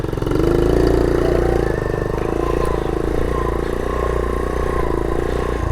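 Small engine of a vintage Honda ATC70 trail bike running steadily at a low, even idle-like pace throughout, close and continuous with a faint voice in the background.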